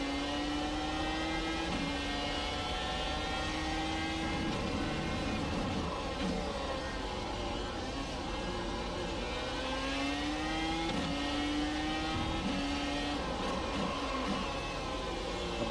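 Dallara iR-01 open-wheel race car in iRacing at full throttle in third gear, a loud continuous engine wail climbing in pitch through repeated gear shifts, steady and close with no voices.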